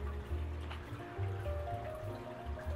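A Marineland Maxi-Jet 1200 pump circulates water in a home aquarium fitted with a sponge filter, giving a steady low watery churn and gurgle with a faint hum, continuous and close, with no voices.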